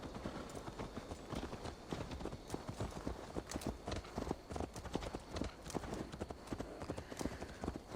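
Horse hooves clip-clop steadily on hard ground in Assassin's Creed Valhalla, a dense run of close, overlapping strikes continuing for the whole stretch, with faint voices in the background.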